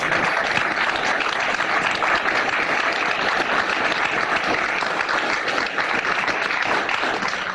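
A lecture audience gives a lecturer on ancient Judaism and the New Testament a sustained round of applause, a loud, dense and even roar of clapping that lasts throughout with no pauses.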